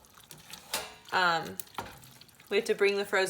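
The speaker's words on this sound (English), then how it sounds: "So we're gonna stir in our frozen veggies." Stirring frozen peas and corn into a pot of homemade soup, with soft scraping and clinking of a utensil against the pot in short bursts between stretches of nearby talk.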